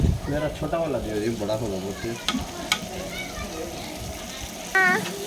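Spices for biryani frying and being stirred in a pot at a farmhouse: a steady sizzle with scraping stir strokes, while voices talk over it, including a child's, early on.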